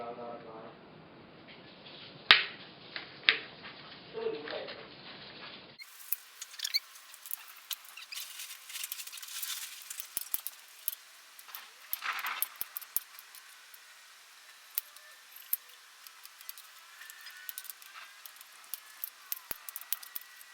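Knife cutting sweet pepper into cubes on a board, a run of quiet irregular taps and thin snicks that keep going throughout, with a louder knock early on; close and faint, no talking.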